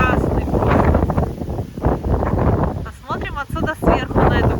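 Strong storm wind blows by the sea in Vladivostok, a loud, steady rumbling roar of gusts buffeting the microphone close up, under a person talking almost continuously.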